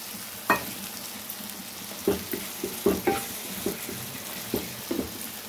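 Onion paste frying in oil for a prawn curry, a soft continuous sizzle broken by irregular spoon stirs and scrapes against the pan, close and fairly quiet.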